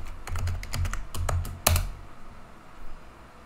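A password being typed on a computer keyboard, a quick run of crisp near key clicks in uneven bursts, ending with a sharper keystroke like the enter key, no talk.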